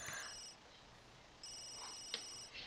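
Electronic phone ringtone from The Sims video game, two bursts of repeating high trills separated by a pause, moderately quiet with a couple of small clicks and no talking.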